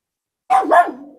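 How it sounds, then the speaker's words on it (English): A pet dog barks twice in quick succession, close and loud, against an otherwise silent background. "That's my dog."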